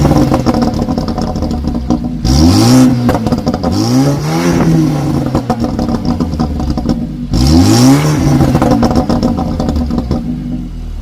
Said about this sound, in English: It burbles and crackles when you're at a standstill and you rev the engine.